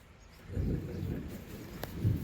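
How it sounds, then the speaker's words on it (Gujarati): Heavy rain during a storm in a village in Gir, heard as a steady low rumbling wash with a thunder-like swell partway through and a few sharp cracks later, moderately loud with no talking. "આ તમે જોઈ શકો આ વરસાદ કહેવાય કે શું કહેવાય કાંઈ ખબર નથી પડતી"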